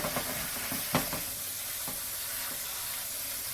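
Water rinses fodder seeds that have just been soaked in bleach as they are spread flat, giving a steady close hiss and splash with a few sharper splashes throughout.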